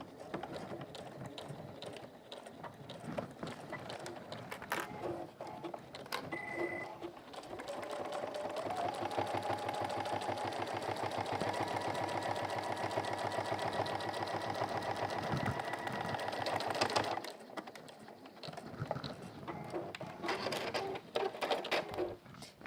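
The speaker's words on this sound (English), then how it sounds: "But I'd sew your sides first." A sewing machine runs in a fast, even mechanical chatter while stitching the sides of a one-piece go bag, ramping up into a sustained run before slowing and stopping.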